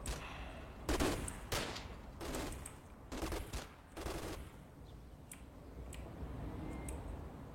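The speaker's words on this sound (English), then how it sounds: "it's a 20mm gun, sorry, 20mm flat gun. Oh, and he's opening fire" A 20mm flak gun opens fire in a video game, five short rapid bursts of automatic fire in quick succession, then a quieter stretch with faint distant ticks.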